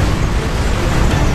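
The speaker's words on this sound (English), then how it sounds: "there's always like a big explosion of some kind." A big explosion in the Transformers The Game video game, a dense, loud rumbling roar that holds steady for about a second and a half with no other sounds.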